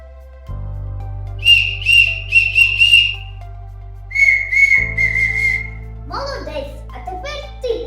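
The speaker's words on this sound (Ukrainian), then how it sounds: "Треба, щоб один свищик зазвучав, а інший повторив його мелодію." Bright, high clay whistles from Opishnia, Ukraine, play short warbling phrases in turns, one answering another, with a voice briefly heard near the end.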